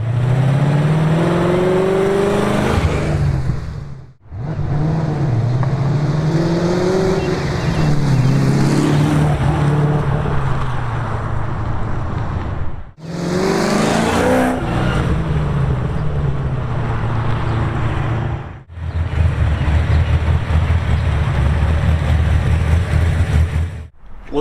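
A Fox car cruises on a test drive, its engine droning steadily from inside with road and wind roar, rising and falling through a few shifts and brief drops in power.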